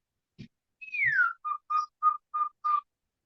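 A person whistles an imitation of the extinct huia bird's call: a long sliding falling note followed by five short, evenly spaced clipped whistles, clear and close with no talking.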